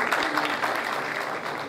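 Faint applause from an audience at a Dia do Detetive ceremony honoring detectives, a soft, steady patter of clapping at a distance.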